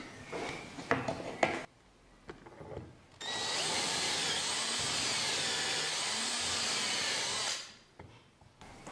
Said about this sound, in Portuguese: Então, vamos furar o lado de cá